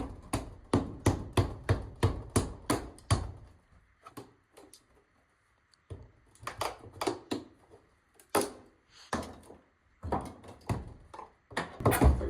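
Repeated hard knocks and prying thuds of a hammer working nails loose while removing a window, in rapid bursts separated by brief pauses, close by.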